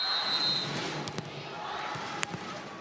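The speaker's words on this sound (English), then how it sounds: "Crowd again trying to inspire." A volleyball arena crowd at a Korea versus Japan match produces a steady wash of cheering and chatter, punctuated by sharp claps and ball impacts, moderately distant.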